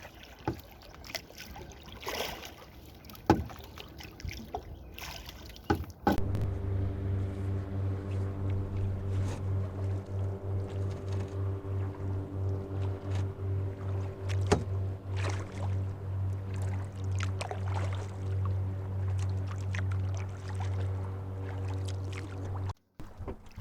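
A canoe paddled across a lake, first a few scattered splashes and knocks, then a steady rhythmic rumbling and lapping of the hull through the water that lasts about seventeen seconds, close and fairly quiet, with no talk.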